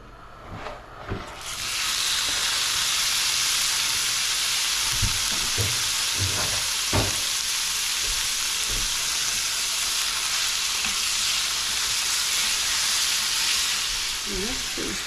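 Food crisping in a hot pan, a loud, steady sizzle and hiss that starts abruptly and carries on unbroken, with a few scraping stirs and knocks of utensils near the start.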